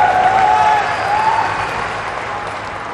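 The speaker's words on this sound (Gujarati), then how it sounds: "તાળીઓના ગર્જન સાથે આપ સૌ પણ આ સ્વાગતના સહભાગી બનશો।" A crowd applauds in welcome of the Prime Minister at a public event in Modhera, Gujarat, a dense, steady wash of clapping that holds for the whole stretch and eases slightly toward the end, with a faint whistle-like tone early on.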